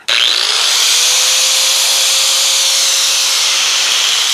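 Angle grinder with a flap disc cutting metal on a custom chain shifter for an old OBS Ford Flareside, spinning up to a loud, harsh, steady whine and grinding hiss, close and unbroken.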